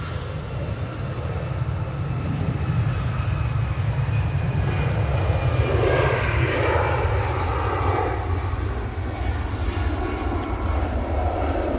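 An EasyJet jet airliner roars steadily overhead at Manchester Airport, a broad, loud engine rumble with a whining edge that swells midway and holds without any talking.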